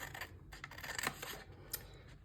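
Scissors snip through cardstock in a few quick, close cuts, faint and crisp against a low background hum, with no voice over them.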